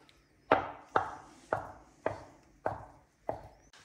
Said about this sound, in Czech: ale zamíchám to tady tou mojí stěrkou